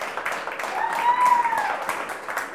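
Audience clapping for a group of people being introduced at a chess venue, a steady patter of applause with a faint high whistle or cheer in the middle, moderate volume and mixed with crowd murmur.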